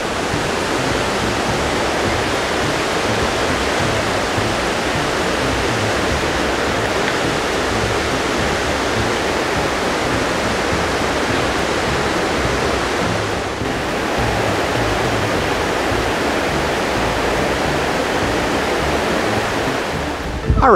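A mountain stream in Iao Valley, Maui rushes loudly and constantly, a close, dense wash of water noise that stays unbroken throughout.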